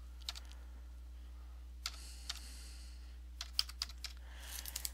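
Data is typed into Microsoft Access on a computer keyboard, with scattered bursts of crisp key taps and pauses between them over a steady low electrical hum, and no voices.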